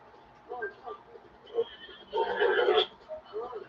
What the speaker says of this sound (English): There's a fine horse, a very, very, very fine horse.